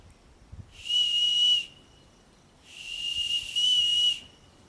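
Two long shrill blasts from a Les Stroud survival whistle, each about a second, loud and piercing with a steady pitch, separated by a short pause.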